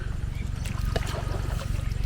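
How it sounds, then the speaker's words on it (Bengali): A boat nearing the shore on the Mangalajodi wetland, with a steady low rumble and soft water lapping and trickling throughout. "নৌকা পাড়ে ভিড়ছে।"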